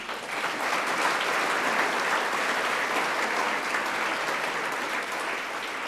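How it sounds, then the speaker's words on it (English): A large audience at an awards ceremony honoring fire and police personnel claps steadily, a dense, even roar of applause sustained from start to finish with no talking. "So please, big round of applause now."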